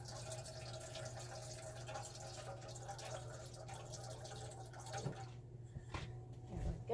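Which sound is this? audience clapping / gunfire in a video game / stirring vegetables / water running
water running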